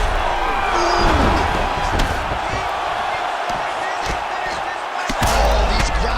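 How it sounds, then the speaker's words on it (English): Arena crowd at a UFC fight, Choi Doo-ho versus Colby Covington, roaring in a sustained, loud swell that rises near the end, with thuds and slaps of ground strikes cutting through the noise. "huge pop from the crowd as the fighters get..."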